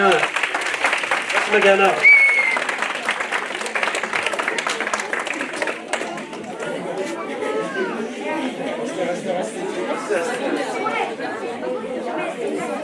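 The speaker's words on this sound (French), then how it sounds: "Vous pouvez les applaudir" An audience at a certificate ceremony for an Aramaic language course applauds, a steady wash of clapping mixed with crowd chatter and voices talking throughout.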